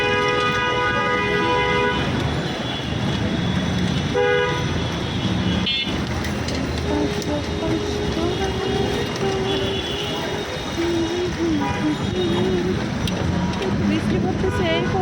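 Rainy-day road traffic with horns blaring repeatedly in long tonal blasts over a loud, continuous roar of passing vehicles, close and dense throughout.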